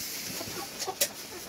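Chickens cluck softly in the background, with a few short sharp calls standing out over a faint, steady hiss.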